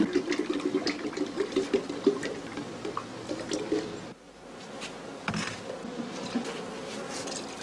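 Honey bees swarm around a traditional straw skep hive in northern German heathland, giving a dense continuous buzzing with close passing drones and occasional small wet drips or squishes.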